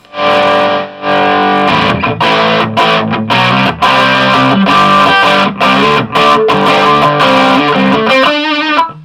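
Heavily distorted electric guitar through the distortion channel of a 30-watt Epiphone Blues combo valve amp, playing chords and riffs, loud and saturated, with brief gaps between phrases and a short wavering sustained note at the end.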